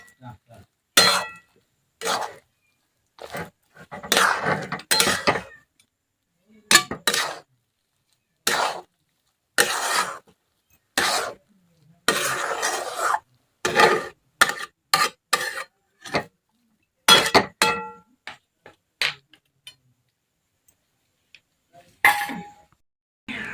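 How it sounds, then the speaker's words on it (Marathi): Peanuts and cashews tossed into a pan of spicy semolina upma and stirred, giving repeated metallic clinks and scraping bursts of a spoon against the pan, close and fairly loud, with short pauses between strokes. "आता आपण शेंगदाणे आणि जे काजू घेतले होते ते ॲड करायचे आणि खूप छान असं आता मिक्स करायचं आहे"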